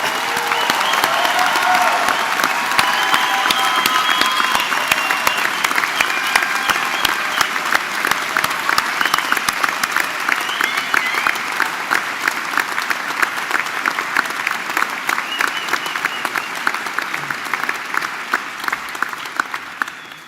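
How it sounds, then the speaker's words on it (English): A large audience at a university graduation ceremony applauds in a long, sustained wash of many hands clapping, loud and even throughout with a gentle fade near the end, no speech on top. "Please join me in giving them a heartfelt round of applause."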